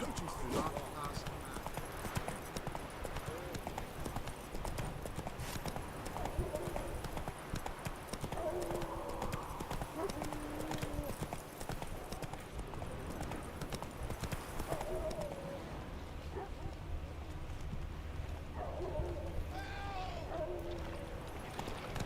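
A horse in The Witcher 3 video game clip-clops steadily at close range for a long stretch, a continuous rhythmic hoofbeat with a few snorts and a brief neigh, while game characters talk over it.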